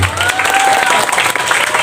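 Applause from an audience at an Islamic boarding school anniversary ceremony, a short burst of loud, dense clapping with a faint whistled tone riding over it.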